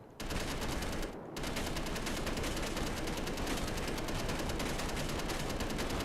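A gun in the video game Space Engineers fires in a loud, continuous rapid stream of shots, with a brief pause near the start before the automatic fire resumes steadily.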